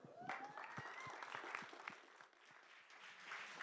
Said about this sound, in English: please a warm welcome and applause to Toby Wan and Matt